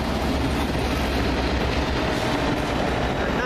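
A West Highland train led by Bittern locomotive 314 rumbles past nearby with a steady clatter of wheels on rails, loud and continuous throughout.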